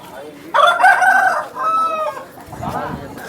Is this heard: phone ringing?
no